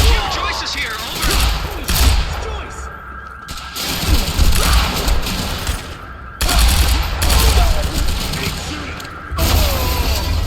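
Rapid bursts of automatic gunfire in the video game Quantum Break, loud and close, with several volleys broken by short pauses and mechanical clatter between them.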